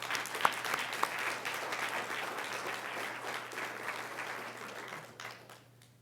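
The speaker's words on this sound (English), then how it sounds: "if we could give them a round of applause" A fairly distant crowd at a school board meeting applauds a winning student team, sustained even clapping that carries on for several seconds and then tapers away.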